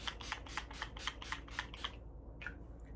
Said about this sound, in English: I might just put some setting spray on now